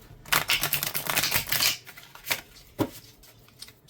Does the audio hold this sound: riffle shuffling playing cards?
yes